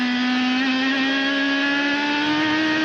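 An IndyCar at the 2010 Sonoma Grand Prix screams loud and close under acceleration, its engine note a sustained high whine rising slightly in pitch through the whole stretch, with no voices.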